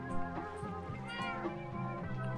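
A cat meows repeatedly in a modded ocean survival video game, the calls clear, close and loud, rising and falling in a steady string of cries with no talk over them.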